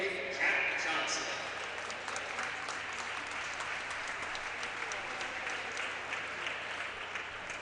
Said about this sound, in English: How about a nice round of applause for number 58, Kat Johnson.